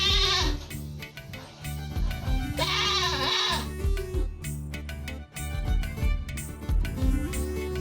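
A lamb bleats repeatedly during a Christmas celebration play in which it is carried along. The bleats come in several bursts over loud, continuous background sound.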